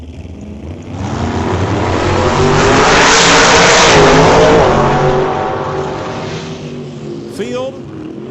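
Chevrolet drag race cars at a bracket race, a loud engine roar swelling to a peak and fading away, with a brief squeal and voices near the close.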